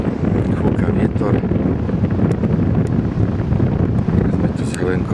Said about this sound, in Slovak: Fúka vietor.